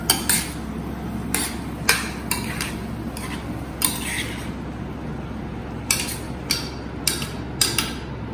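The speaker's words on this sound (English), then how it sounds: "Stir it nicely." Bottle gourd cooking in milk in a metal pan, with a spoon scraping and clinking against the pan in irregular strokes, close and clear with a steady low background hum and no talk.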